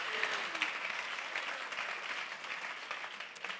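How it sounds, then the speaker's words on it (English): Audience at an evening science event at a museum, clapping in sustained, dense applause that stays steady throughout. "give them a big round of applause"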